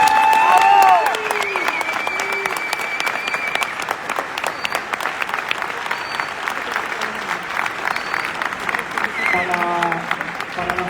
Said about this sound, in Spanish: Un aplauso para despedirlos a los oradores.